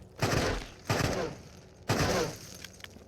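Three loud full-auto bursts of gunfire from a weapon in the VR shooter Into the Radius, each roughly a second long with short gaps between, the last trailing into faint clatter.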